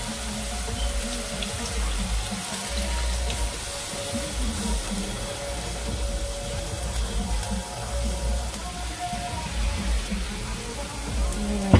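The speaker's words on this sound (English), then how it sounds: "So I'm going to strain off some of the milk." Milk being strained off for Guyanese saltfish and mixed-vegetable cook-up rice, a soft continuous pouring trickle heard close but quiet throughout.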